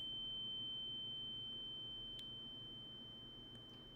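A steady, thin high-pitched ringing tone, the in-game ear-buzz effect from Burrows, holds over a low muffled rumble and slowly fades, with a couple of faint brief ticks.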